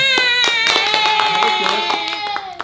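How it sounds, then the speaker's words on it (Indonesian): A burst of hand clapping from a group, steady and fairly loud, over a sustained tonal background sound. "Tepuk tangan."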